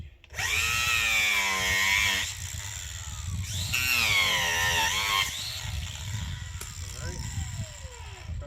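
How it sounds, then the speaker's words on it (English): A handheld power tool grinds a spot into a tree branch outdoors. It whines loudly and steadily, pitch sliding as the load changes, then eases into a lower drone. "I'm gonna grind us a spot in here"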